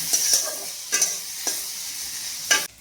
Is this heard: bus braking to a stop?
no